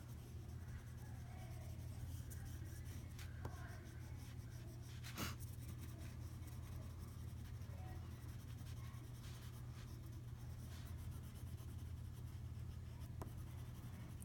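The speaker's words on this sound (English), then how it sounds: "I'm not really applying any pressure with my eraser because I don't want to remove the lines completely" An eraser rubs lightly across a brush-tip marker drawing on paper, a faint, soft, scratchy rubbing that continues steadily over a low constant hum.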